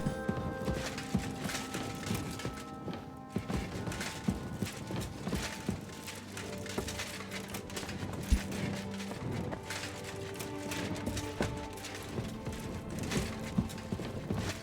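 Horse hooves clip-clop steadily in the medieval open-world game Kingdom Come: Deliverance II while riding through forests, a continuous rhythmic trot with occasional whinnies over ambient game sounds.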